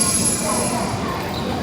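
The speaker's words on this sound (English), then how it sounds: "It's just a train station." Train station ambience in Hangzhou: a steady rumble of rolling trains with high wheel squeal, loud and continuous over a short stretch.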